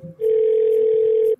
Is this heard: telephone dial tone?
yes